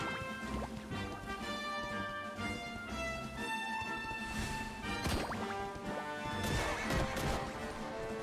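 Horse in a Dragon Quest video game trampling slimes, with neighing and whinnying over clip-clop hoofbeats, game music underneath and sharp hit effects, all loud and close without any talking.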